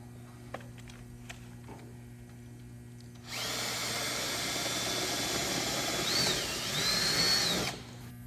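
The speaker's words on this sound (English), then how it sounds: "using a 1/4 inch hole, drill a hole all the way through the inside tab to the other side of the door" A power drill bores a 1/4 inch hole through the inside tab of a door panel. It starts abruptly and whines steadily and loudly for about four seconds, its pitch rising briefly near the end before it cuts off.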